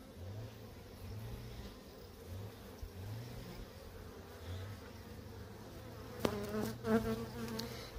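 Bees hum steadily around a hive in a park apiary, a dense, continuous low buzz close by, with a brief louder rustle or bump near the end and no talking.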